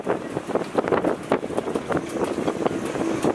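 Gusty wind at sea on a sailboat in the Canary Islands buffets the microphone with a constant roaring rush, loud and close, rising and falling in uneven surges.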